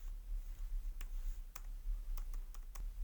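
Keys click on a computer keyboard during accounting data entry, about eight sharp, faint taps spaced irregularly over a low hum, with no voices.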